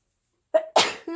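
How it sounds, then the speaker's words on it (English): A single sharp sneeze, preceded by a short breathy intake, close and fairly loud in a quiet indoor room during a thrift-shop haul of Christmas ribbon, followed by a brief voiced exhale. "Oh, I think I'm going to sneeze."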